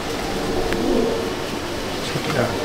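Pigeons in a racing pigeon loft, day-and-night main bloodline birds, give soft low cooing and fluttering in a steady, close murmur with no talk over it.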